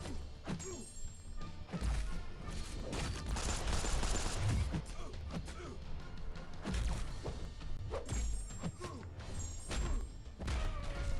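An explosion detonates during combat in the mobile fighting game Marvel Contest of Champions, with crashing, thudding blasts and rapid impact hits over busy game effects and music.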